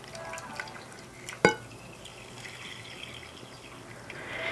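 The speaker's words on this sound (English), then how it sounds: "we'll fill this up with water just to kind of see what we're working with" Water is poured into a planter for a carnivorous plant display, giving one sharp splash followed by faint dripping and trickling at close range, with no speech.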